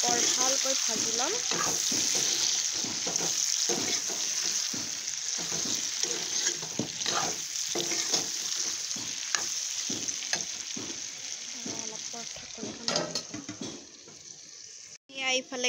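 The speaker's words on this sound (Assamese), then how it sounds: "এইখিনি অলপ ভালকৈ ভাজি ল'ম।" Tomatoes fry in a pan with a constant close sizzle, while frequent scraping stirs sound at an uneven rhythm. A voice talks faintly underneath at times.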